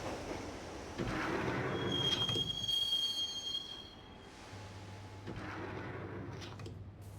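Subway train ride in the video game Max Payne: rumbling carriage noise with loud metallic wheel squeals, a sustained high screech in the middle, then a steady low drone as the train runs on, no talking.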